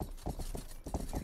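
Hooves of a very heavy horse clip-clop in a quick, steady rhythm in the video game Rustler, fairly close, with soft mechanical clatter and no talking.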